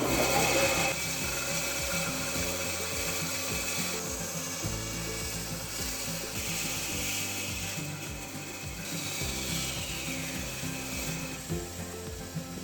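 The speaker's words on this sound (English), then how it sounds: "And now I'll move on to my fancy bandsaw from the 1800s." Antique 1800s bandsaw cutting a wooden lure blank, a continuous close rasping rub of blade through wood with a rhythmic mechanical chatter underneath.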